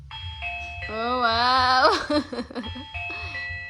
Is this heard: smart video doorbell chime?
yes